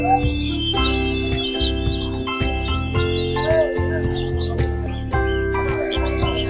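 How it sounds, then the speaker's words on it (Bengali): Lovebirds and cockatiels chirp and tweet continuously at a busy pet bird market in Mirpur 1, many bright overlapping calls layered into a steady, close chorus. "দেখুন কি সুন্দর সুন্দর লাভবার্ড, কোকাটেল"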